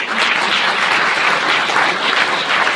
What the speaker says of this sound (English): So again, round of applause for you.